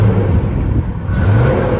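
A car engine running close by with a steady, loud low rumble and a slight rise and fall in pitch over a brief stretch.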